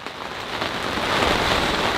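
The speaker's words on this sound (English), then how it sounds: "It's raining quite hard outside, and the winds really come up." Heavy rain pours outside in a windy June storm, a dense, steady hiss of drops on surfaces that swells slightly louder partway through, with no voices.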